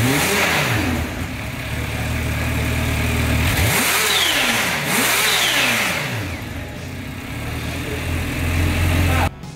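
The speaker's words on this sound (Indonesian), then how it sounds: "engine on" A 2017 Kawasaki H2 Carbon supercharged motorcycle fires up close by and revs in several rising-and-falling sweeps over a steady idle, with a voice speaking over the engine.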